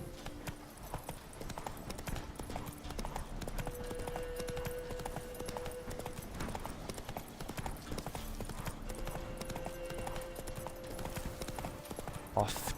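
Roach, Geralt's horse in The Witcher video game, trots with rapid, rhythmic clip-clop hoofbeats throughout, moderately close, while a voice talks over the game sounds.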